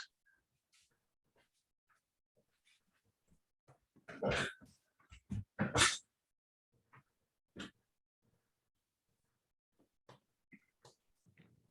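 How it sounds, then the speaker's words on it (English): Several sharp barks from a pet dog in a quiet room, two loud clustered bursts in the middle followed by a couple of fainter, more distant yelps. "I got rid of my barking doggy"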